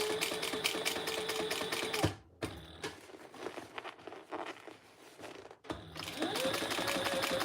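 A home sewing machine stitching fabric, its fast steady whirring motor heard up close, stopping briefly while the fabric is shifted with soft rustles and handling, then starting up again at a continuous hum.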